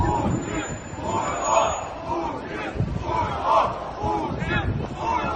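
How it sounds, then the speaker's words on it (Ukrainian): A large crowd marching through the streets of Kherson chants a patriotic slogan in loud rhythmic bursts, the shouted phrases rising and falling in repeated waves over the general roar of the marchers. "У Херсоні містяни пройшлися вулицями міста, скандуючи «Україна понад усе»"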